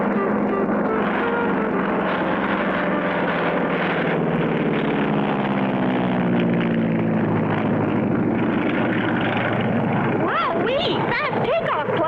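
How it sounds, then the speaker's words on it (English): Propeller airplane roaring through a fast takeoff in a vintage cartoon, a steady loud engine drone with music and voices mixed in, rising toward the end. "Fast takeoff, Clutch."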